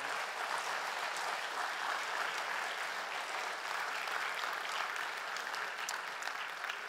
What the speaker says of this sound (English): You're allowed to give him more applause than Albert, by the way